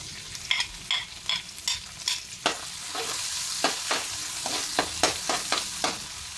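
Sliced onions sizzle in a pan for lumpia, steady frying hiss with repeated sharp scraping strokes of a spoon stirring them, close and fairly loud, no voices.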